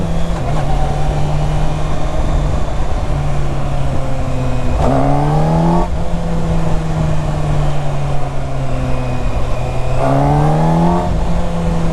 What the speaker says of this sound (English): Maybe this bike just makes so much horsepower that low power mode feels really fast still.